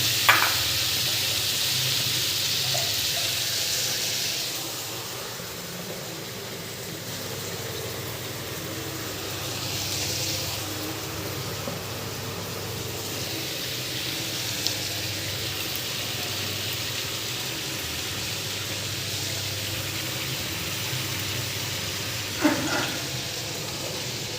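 Potatoes and flat beans sauté in a pan, giving a steady close sizzle and hiss that swells now and then as the food is stirred, with a few faint clinks along the way; no one talks.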